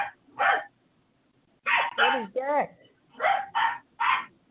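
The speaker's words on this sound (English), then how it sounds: "my dog is going crazy" A pet dog barks in repeated sharp bursts close by inside a home, several barks in quick succession with short pauses, while a person briefly asks a question between them.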